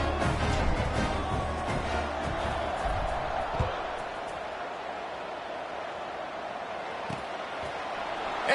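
Steady crowd murmur fills a football stadium after a score and extra point, broad and continuous with faint thumps and a speech-like layer mixed in at moderate level.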